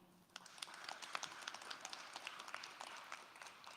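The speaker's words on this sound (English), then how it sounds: "give a round of applause to the rest of our panel that is here" A crowd claps in applause for a music summit panel, a dense patter of many hands with sharp scattered claps rising quickly and holding steady, fairly distant and moderately quiet.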